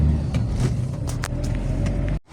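A car being driven, a steady low engine rumble with road noise and a few brief knocks and clatters, close and continuous before cutting out abruptly near the end.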